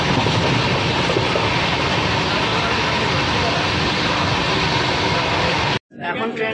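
A passenger train on the Kolkata to Haridwar run pulls into Kiul Junction in Bihar, making a loud, continuous rumble and roar that cuts off abruptly near the end.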